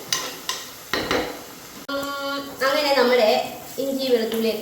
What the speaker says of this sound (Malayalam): ഇതൊന്ന് നല്ലപോലെ ഒന്ന് നമുക്കൊന്ന് മൂപ്പിക്കാം കേട്ടോ ഇതാ പച്ചമുളകൊക്കെ മാറുന്നത് നോക്കാം